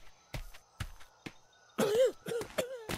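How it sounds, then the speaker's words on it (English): A person coughs several times, with short dry bursts first, then a longer rougher fit at the end, close and fairly loud in a quiet room. "why am I coughing?"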